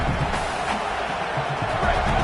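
Stadium crowd noise in a college football video game, a dense, steady roar of a large crowd with scattered bumps and cheers, moderately loud throughout.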